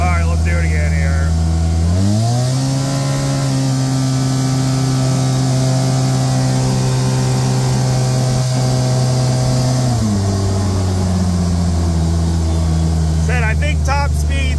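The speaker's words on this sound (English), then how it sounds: "it's pretty healthy sounding motor on these things" Engine of a high-performance side-by-side UTV revving up hard and holding a steady loud drone, then dropping back, with a strong close mechanical tone throughout.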